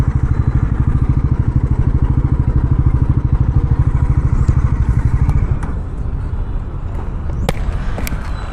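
An NS 400 motorcycle on a test ride, its engine pulsing close and loud in a fast, steady beat as the throttle is opened, easing slightly toward the end with light rattles.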